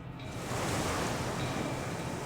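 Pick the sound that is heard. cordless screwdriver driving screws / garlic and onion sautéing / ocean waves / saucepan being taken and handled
ocean waves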